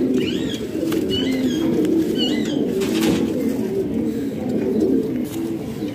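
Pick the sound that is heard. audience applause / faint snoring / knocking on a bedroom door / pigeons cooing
pigeons cooing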